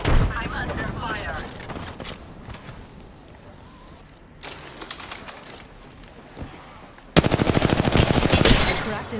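Rapid bursts of automatic gunfire from an Apex Legends match, loud and close, with a dense stuttering volley near the end, surrounded by other game effects.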